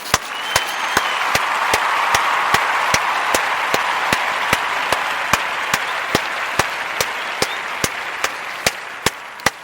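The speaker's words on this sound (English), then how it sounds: "Give him applause." An audience applauds during a spoken address, a steady wash of clapping with sharp, evenly spaced loud claps standing out in a regular rhythm throughout.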